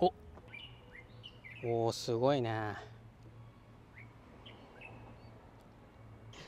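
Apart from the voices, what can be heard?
unfamiliar bird calls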